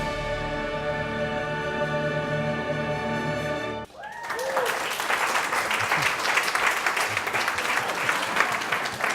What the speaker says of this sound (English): give another round of applause to that video